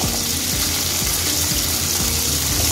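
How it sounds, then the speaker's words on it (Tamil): Sliced onions hitting hot oil in a pan for a spicy vegetable gravy, a loud, dense, continuous sizzle with a low humming drone underneath, unbroken for the whole stretch. "இப்போ வெங்காயம் சேர்த்துருவோம்"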